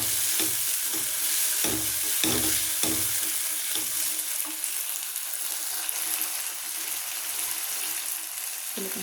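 Chicken, tomato and onion fry in a pan, a steady loud sizzle with several scraping stirs of a spoon early on, close by and without talk.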